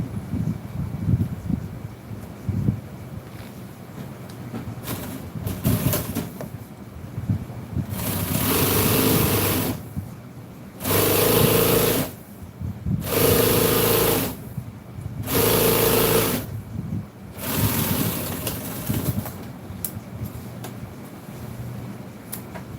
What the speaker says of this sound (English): If y'all got a sewing machine, you can kind of do that pretty easy